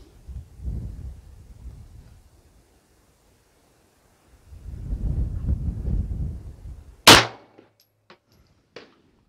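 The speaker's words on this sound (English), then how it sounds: "Let's go ahead and fire five rounds now with the Sierra V-Crowns." A rifle fires Sierra V-Crown reloads outdoors: one sharp, loud report stands out near the end after stretches of low wind rumble, followed by a few faint clicks.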